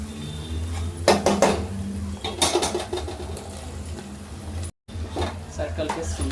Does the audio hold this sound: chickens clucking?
no